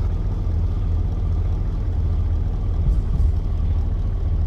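A steady low rumble of a car's tyres rolling off-road over rough ground in the video game Deadly Flare, continuous and fairly loud, with a few heavier bumps near the end.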